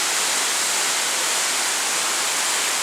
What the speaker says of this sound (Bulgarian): Първата перспектива към водопада